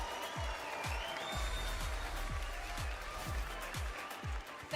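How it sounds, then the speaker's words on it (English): A crowd claps steadily, a dense wash of applause with a roughly regular rhythm of hand claps running throughout. "thank you for this beautiful applause from the home crowd"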